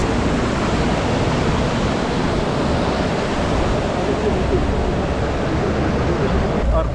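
Steady broadband rush of a waterfall that a jeep must ford on the road through Baboon Valley, loud and continuous throughout with no breaks.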